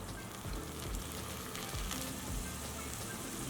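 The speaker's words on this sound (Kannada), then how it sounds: "ಹುಣಸೆ ರಸ ಎಲ್ಲ ಬೆಂದಿದೆ ನೋಡಿ, ಎಣ್ಣೆ ಎಲ್ಲ ಮೇಲೆ ಬರ್ತಾ ಇದೆ" Tamarind juice and oil simmer and sizzle steadily in a pan for tempering, giving a soft continuous crackle with faint bubbling pops and no talking.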